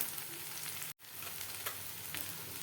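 A ground masala paste sautés in a pan with turmeric, asafoetida and homemade garam masala, giving a steady close sizzle and frying hiss with a brief dropout partway through and no talking.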